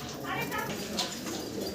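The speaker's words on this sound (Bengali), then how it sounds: "দেখেন কবুতরগুলো দেখেন" Fancy pigeons coo softly in a brief burst over a steady background murmur of voices.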